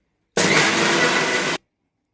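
A mixer grinder whirs loudly and evenly for just over a second, grinding masala with garlic and small pieces of ginger, then cuts off abruptly into silence.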